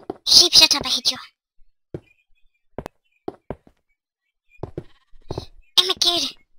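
Sheep in Minecraft bleat in short bursts, fairly close, mixed with a few clicks and taps and separated by quiet gaps.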